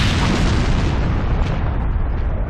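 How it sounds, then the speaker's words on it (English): A loud, dense rumbling blast from a bomb explosion in the video game Resident Evil fills the whole stretch without a break, slowly thinning in the highs toward the end. "I'll set off a triggering system for a bomb!"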